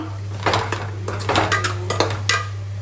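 A spoon scrapes and clatters against a pan while spring onion egg curry is mixed with coriander and chili powder, giving several uneven metallic strokes over a faint sizzle and a low steady hum, with no talking.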